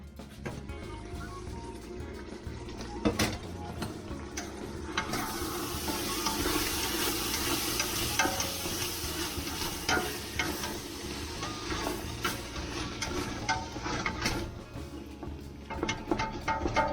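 Beef for vegetable beef soup fries in a pan with a steady crackling sizzle that swells in the middle. Occasional scrapes and clinks of a utensil sound close by.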